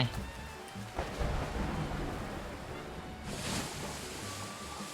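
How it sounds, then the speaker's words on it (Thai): Steady rain falling in the Roblox game Arcane Odyssey, a continuous dense hiss of downpour with a low rumbling undertone, swelling slightly toward the end, with no talking. "มันน่าจะให้ต้องให้ทำอะไรแถวนี้แน่นอนนะเพราะว่าฝนมันตกนะครับ"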